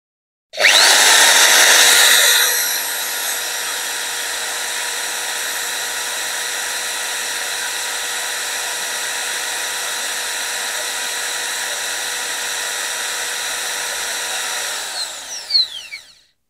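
An electric drill with an Osel drill bit runs in impact mode, a loud steady high whine with a harsher burst at start-up, holding level for most of the stretch before spinning down at the end; no talking.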